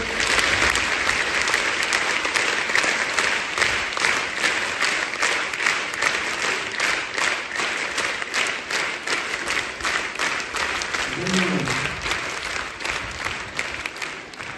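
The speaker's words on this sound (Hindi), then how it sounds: "3 ताली से स्वागत करो फिर से।" An audience at a community program bursts into dense, rhythmic applause to welcome the girls, loud and steady throughout with individual claps audible in the mix.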